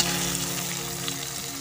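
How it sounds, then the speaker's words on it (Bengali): Shing fish, stinging catfish, frying in hot oil, a continuous dense sizzle at steady loudness with a faint low hum beneath. "এবার সবগুলো মাছ, শিং মাছগুলো ভাজা করে নিয়ে"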